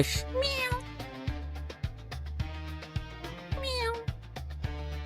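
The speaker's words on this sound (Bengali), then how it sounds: "পাশে দেখেন বিড়াল কত সুন্দর" A cat sitting beside parked vehicles in a Saudi Arabian neighborhood meows loudly twice, long rising-falling cries that stand out over a rhythmic thumping beat, with someone talking in between.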